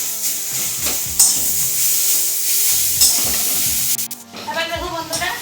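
Chili seeds sizzle and fry loudly in a pan, with bright crackling hiss and repeated scraping stirs of a spatula, the sizzle easing briefly before flaring again near the end.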